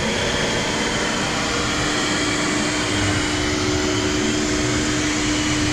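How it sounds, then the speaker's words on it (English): A shop vacuum fitted to a tool grinder drones at a steady, loud level with a constant hum and no change in pitch or volume from start to finish. "And now we're going to turn on the vacuum."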